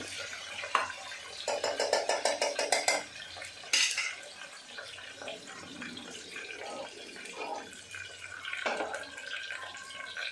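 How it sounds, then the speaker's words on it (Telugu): Curry leaves and ingredients being stirred and fried in oil in a pan while making kakarakaya pulusu, bitter gourd curry, with clinking utensil scrapes and knocks over a soft background sizzle, moderately quiet. "వేసుకొని కలుపుకోవాలి. నూనెలో బాగా ఫ్రై అవ్వాలి."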